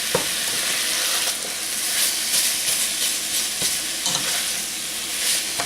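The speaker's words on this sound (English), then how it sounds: "You kind of got to let it cook a little bit and then start breaking it up, flipping it around and everything" Ground meat for chili mac sizzles steadily in oil in a pan, with a constant bright frying hiss and occasional scraping clicks as it is broken up and flipped, close and alone without talk.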